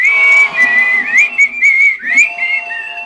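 A person whistles a wavering tune close up, clear shrill notes sliding between pitches with brief breaks, no talking.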